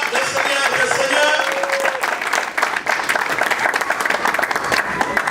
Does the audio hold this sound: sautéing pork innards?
no